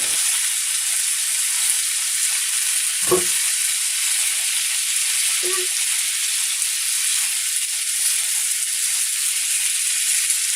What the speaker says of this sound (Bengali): এবার আমি এটাতে পাস্তাগুলো দিয়ে দিচ্ছি। এবার এটাকে ভালোভাবে নাড়াতে হবে।